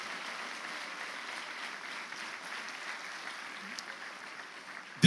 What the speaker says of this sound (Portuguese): E se você vai aplaudir, você vai aplaudir forte.